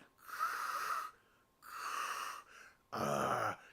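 A man imitates Darth Vader's heavy mask breathing with his voice: three loud, drawn-out wheezing breaths, each about a second long, separated by short pauses and heard alone.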